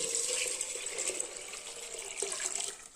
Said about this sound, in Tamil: இப்போ நான் 2 லிட்டர் தண்ணி ஊற்றுறேன்